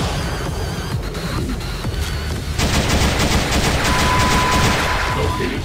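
Gunfire in an animated battle between a gunman and a cyber soldier, with rapid bursts of shots that grow denser and louder partway through over a noisy background.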